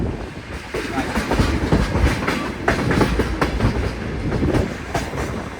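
Rattling ride in an open freight train coal wagon on the way to a rotary excavator, wheels clattering steadily over the rails with rhythmic clacks and rumbling noise throughout, loud and close.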